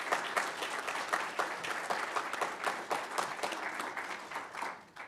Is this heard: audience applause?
yes